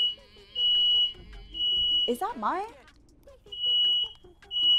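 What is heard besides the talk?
smoke detector beeping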